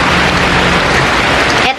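Heavy rain falls on a home garden after months of wet weather, a dense, continuous hiss of drops that holds steady and then breaks off abruptly just before the end.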